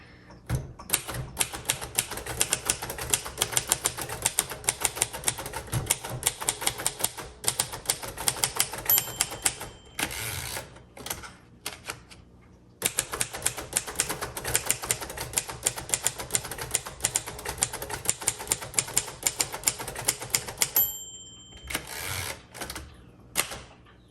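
A 1958 Royal Aristocrat manual typewriter clatters with rapid, steady key strikes at close range, broken by brief pauses and an occasional carriage-return ding.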